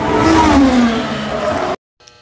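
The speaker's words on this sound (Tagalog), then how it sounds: "si David Licauco enjoy sa panonood ng Ferrari race Grand Prix sa Singapore." Ferrari Formula 1 cars at the Singapore Grand Prix roar loudly for about two seconds as engines scream and shift pitch, then cut to near silence.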